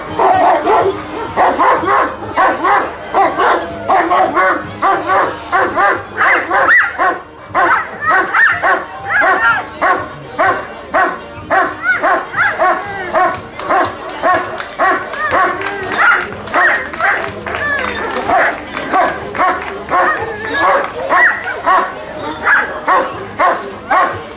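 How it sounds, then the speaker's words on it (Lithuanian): Several dogs bark repeatedly at an outdoor dog show during a festival, loud, rapid overlapping barks and yips close by, with crowd voices mixed underneath. "šitas šunų pasirodymas šios šventės vinys"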